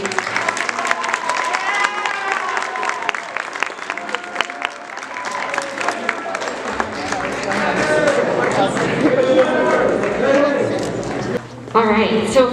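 Sustained audience applause for scholars at a school medal of honor awards ceremony, a dense steady wash of clapping with crowd murmur and cheers mixed in, swelling toward the end before a brief dip and resurgence.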